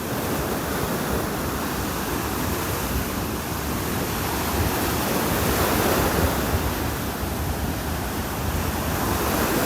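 Small waves breaking steadily on a Naples, Florida beach, a continuous loud wash of surf with wind noise and no distinct pauses.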